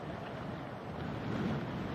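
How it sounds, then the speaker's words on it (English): A strong gust of wind buffets the microphone outdoors at a golf championship, a steady broadband roar that swells slightly toward the end, with no talk. "really massive gust just coming up right now"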